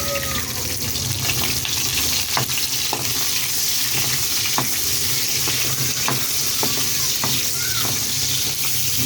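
Onion and ginger being sautéed in oil for arroz caldo: a loud, continuous sizzle close by, broken by periodic sharp spatula taps and scrapes against the pan, with no voices.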